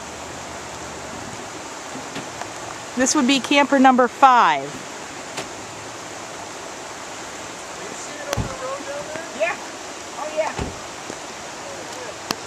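Floodwaters of the White River in Sharon, Vermont rush in a steady broad roar throughout, with a voice talking briefly over it near the start and again later.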